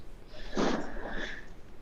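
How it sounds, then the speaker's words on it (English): A person blows their nose in one short, breathy burst with a sharp honk in the middle, close and fairly quiet, alone without talk. "I need to blow my nose."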